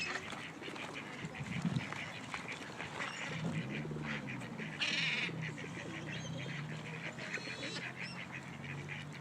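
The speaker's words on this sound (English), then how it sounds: "Go, Babas, feed the birds." Ducks and geese being fed at a lake quack and honk in a dense, continuous chorus close by, with faint voices of people mixed in.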